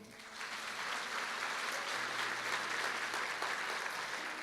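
Church congregation applauding during a sermon, a steady dense wash of clapping sustained for several seconds with no talk over it.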